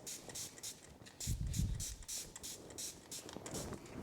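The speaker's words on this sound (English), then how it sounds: "I'm just going to kind of spray all of it." A hand spray bottle mists water onto vinyl in a series of short, close hissing bursts, with faint background noise between sprays.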